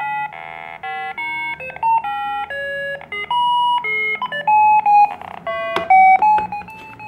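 The built-in PC speaker of the first Hewlett-Packard laptop plays a rapid sequence of pure electronic beeps at shifting pitches, loud and close, like a simple melody. A few clicks occur near the end.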